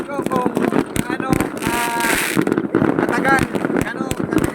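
New Year fireworks burst over Greenland in rapid, loud pops and crackling bangs, repeated irregularly and close by, while people talk and exclaim excitedly over them.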